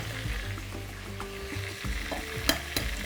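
Egg being stirred into grated cheese in a bowl, a wet, sticky squelching and scraping that runs continuously and close, with a couple of sharper clicks of the utensil near the end.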